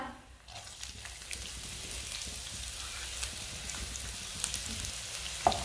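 Chopped onion frying in about two spoons of oil with whole cumin and coriander seeds, a steady close sizzle with soft crackling pops running throughout, heard alone without talk.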